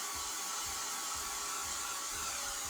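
A hair dryer blows steadily on painted scrapbook paper in winter colors, a loud continuous whooshing hum that holds an even level throughout with no pauses.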